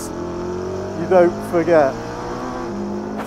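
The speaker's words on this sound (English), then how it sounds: "following a Vulcan spitting flames in a P1 GTR" A McLaren P1 GTR follows a flame-spitting Aston Martin Vulcan on track, with a steady engine drone and a brief surging rise in pitch, while a person talks over it.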